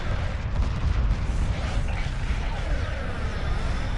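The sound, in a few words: heavy weapons fire in Homeworld video game battle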